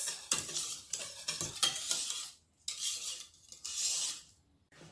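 A whisk scrapes and taps rhythmically against a pot while vanilla is worked into pastry cream, in short bursts of bright scraping separated by brief pauses, close and moderately quiet with no talking.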